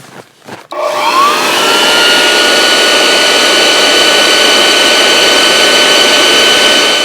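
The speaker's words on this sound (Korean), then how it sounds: "600W짜리 유선 송풍기를 중간 정도의 파워로 했을 때" After a couple of clicks, a 600W corded electric blower on medium power, run from a power bank, whirs up and runs steadily with a loud, constant rushing roar and a high whine.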